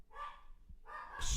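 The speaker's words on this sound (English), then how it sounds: "I apologize for the crazy dogs in the background." Dogs bark in the background of a live stream, with two short bursts of barking separated by a brief pause, fairly faint and alone.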